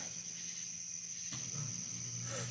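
A continuous high, steady chirring of crickets outdoors at night, faint and constant, with a soft low rumble underneath.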